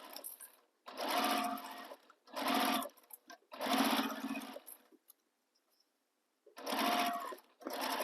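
A sewing machine stitches both edges of a fabric sling bag, running in four loud bursts of steady needle hum separated by short pauses, close by with no talking.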